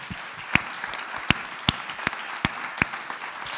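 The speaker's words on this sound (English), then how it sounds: "A big applause to Professor Yunus" At a social business anniversary event at HEC Paris, a room applauds Professor Yunus. Close, sharp individual claps stand out in an irregular rhythm over a softer wash of clapping from the crowd.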